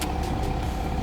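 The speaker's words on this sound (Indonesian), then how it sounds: "Dan suara mobilnya ini" A Porsche sports car engine idles nearby, a steady low rumble that holds level through one brief moment with no talk.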